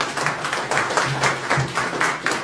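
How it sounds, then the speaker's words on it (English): Audience applause at an investment meet-and-greet event in Toronto, a steady round of clapping in a hall, pulsing in waves without a break. "Please, a beautiful round of applause."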